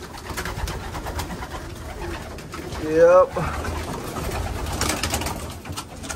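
A single short pigeon coo sounds close by, from racing pigeons returning during a training toss, over steady outdoor background noise and a voice.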